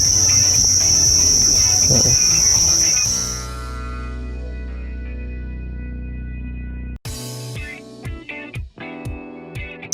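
Crickets chirp in a dense, steady high-pitched chorus on a cricket farm, loud and close for the first few seconds, then fading to a quieter hum before scattered clicks and knocks take over.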